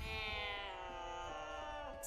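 A cat in Baldur's Gate 3 gives one drawn-out, whiny meow lasting about two seconds, close and clear with no talk over it.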